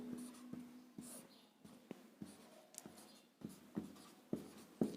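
A pen scratching on paper while notes are written, short quiet strokes in irregular bursts with soft clicks, close and alone.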